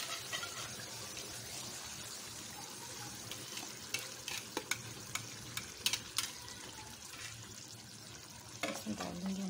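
Yogurt is stirred into masala frying in a pan, giving a faint continuous sizzle under scattered scraping clinks of a spoon against the pan.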